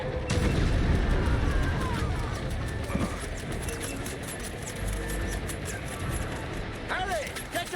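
Enemy gunfire in 11-11: Memories Retold crackles in repeated sharp cracks, some distant and some closer, within a battlefield din of hoofbeats and shouting voices throughout.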